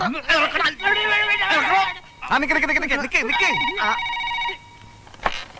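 A telephone rings in a Malayalam film comedy scene, its warbling electronic trill repeating in bursts and mixing with other tones and voices.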